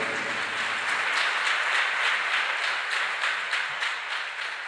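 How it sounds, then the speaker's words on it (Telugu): A church congregation clapping loudly together at a worship service, a dense, sustained roar of many hands with a rough steady rhythm that fades slightly toward the end. "గట్టిగా చప్పట్లు కొడదామా?"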